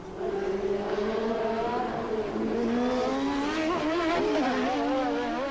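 Turbocharged 1983 Formula 1 race cars lap a circuit with a loud, continuous, rising and falling engine scream as they pass close by.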